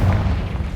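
Confringo spell blast in the video game Hogwarts Legacy, a single short, deep, loud boom that fades quickly.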